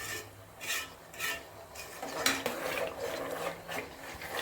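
A utensil scrapes and stirs cream in a pot as it cooks down into ghee, giving rhythmic metallic rasps and knocks that come closer together in the second half, with no talking.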